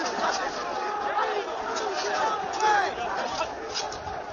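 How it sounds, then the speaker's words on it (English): A massive crowd of people pushes against police barriers outside the Capitol, a dense, continuous babble of many voices with shouting rising and falling throughout, close and steady with no pauses. "You got a massive crowd of people pushing against them"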